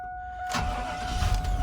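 A 2009 Volkswagen CC Sport engine cranks and catches after a short high electrical whine, then settles into a low running rumble.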